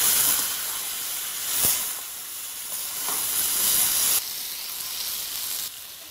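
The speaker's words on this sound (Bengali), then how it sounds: "মশলাগুলো যাতে পুড়ে না যায় তার জন্য আমি একটু সামান্য জল দিয়ে দিচ্ছি।" Water hits hot frying spices in a pan, raising a loud, continuous steamy hiss and sizzle that holds throughout, with a few small pops.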